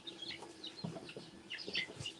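Young chicks clucking and peeping in their pen, an agitated, busy cluster of short calls at close range, continuous without any talking.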